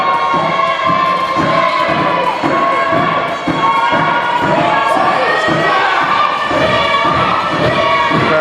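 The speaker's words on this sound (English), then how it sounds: "Crowd getting behind Billy Litt" A wrestling crowd at a live NWA show cheers and shouts steadily, with children's voices in the mix and rhythmic thumps of stomping or clapping running through the loud, continuous roar.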